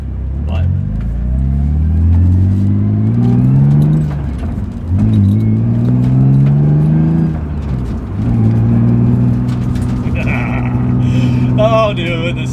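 A BMW E36 M3 built for Laguna Seca revs hard through repeated rising gear pulls, its engine note climbing and dropping with each shift, loud and close from inside the car, with brief talk near the end.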